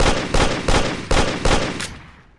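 Rapid gunfire from the Amazing Frog video game: five loud, sharp bursts in a quick, even rhythm, each fading slightly, with the last one trailing off into a decaying tail.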